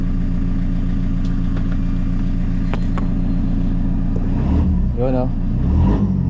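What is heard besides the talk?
Toyota Commuter van engine revving when accelerator pressed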